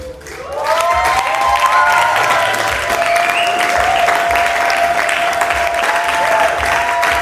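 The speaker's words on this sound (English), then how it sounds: "Is that the kind of applause that she deserves?" Loud standing ovation for a speaker at a content creation conference, thick sustained clapping with some cheering, rising quickly at the start and holding steady over a sustained musical tone.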